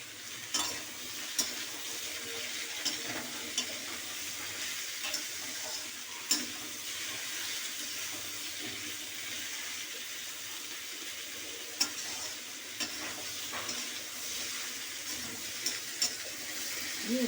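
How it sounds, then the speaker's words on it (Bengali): Jackfruit seeds go into a frying pan of shrimp and vegetable stems and are stirred, giving a steady hissing sizzle with scattered scraping clicks from the spoon, close up and continuous, with no talk. "এই যে কাঁঠালের দানাগুলো আমি এবারে একসঙ্গে দিয়ে দিলাম।"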